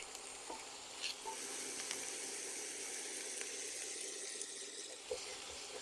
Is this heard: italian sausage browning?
yes